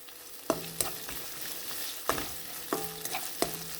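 Curry leaves sauté in hot oil with slit lady's finger, a steady sizzle punctuated by about half a dozen sharp spatula knocks and scrapes against the pan.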